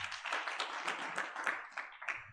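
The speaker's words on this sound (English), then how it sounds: "We may give him a round of applause again" Applause from a summit audience, a dense patter of many hands clapping at moderate level, with a few sharper claps standing out as it continues.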